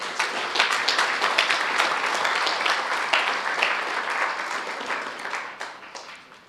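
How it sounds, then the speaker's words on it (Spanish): A church congregation applauds during a Spanish-language sermon, the dense clapping swelling quickly, holding steady for several seconds, then tapering off toward the end. "Dale un aplauso al Señor."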